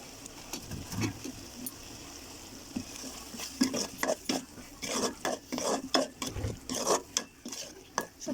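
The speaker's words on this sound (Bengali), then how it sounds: "এখন একটু কষাবো, এগুলো কষানোর পরে তারপর চিকেনটা আমি দেবো, আর মশলা একটু কষাবো।" Tomatoes with spices and salt being sautéed in a pan for a chicken curry, heard as repeated scraping and stirring clatter of a utensil against the pan over a low sizzle, close and without talk.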